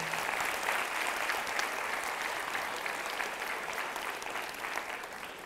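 Sustained clapping from a sizable crowd fills the space, an even wash of applause that holds steady from start to finish.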